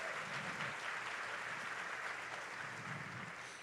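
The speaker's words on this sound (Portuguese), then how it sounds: "Aplauda ao Senhor." A church congregation at a women's day service claps steadily together, a thick, even wash of applause from many hands filling the room, sustained without a break from start to finish.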